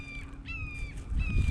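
Hawks screech outdoors near beehives, giving two or three thin, drawn-out, slightly falling cries at a moderate distance over low rumbling background noise.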